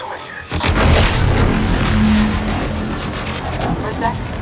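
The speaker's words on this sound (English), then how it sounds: "What's that? An explosion?" A loud explosion booms in The Outer Worlds 2, a sudden heavy blast followed by a sustained rumbling roar that slowly fades, with voices over it.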